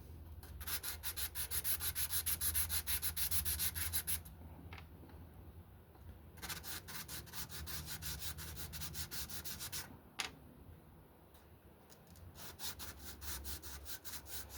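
Resin wheels being sanded by hand, steady rhythmic rubbing strokes of abrasive scraping back and forth in bursts with short pauses, close and fairly quiet, no talking.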